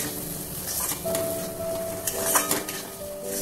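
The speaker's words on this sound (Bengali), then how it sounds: "এবার গরম মশলার গুঁড়ো সামান্য দিয়ে নেড়ে" A spoon scrapes and clinks against a pan as an egg and green banana curry is stirred after garam masala is added. The taps and scrapes are close and fairly quiet over a faint background hum.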